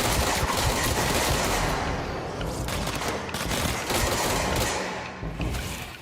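Enemies in the Control video game open fire with rapid weapons, a dense, loud fusillade of shots and thuds running continuously for several seconds with a brief lull near the end.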